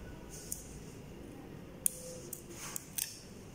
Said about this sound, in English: take the straw and cut the straw on both sides an inch in this way